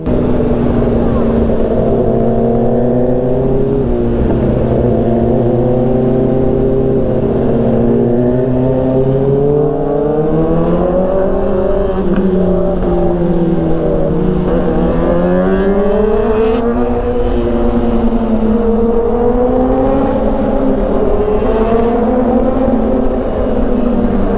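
Kawasaki big bikes rev hard at a gathering on Quezon Avenue, a loud, close, continuous engine roar that climbs and dips in pitch over twenty-odd seconds without a break, with voices barely audible underneath.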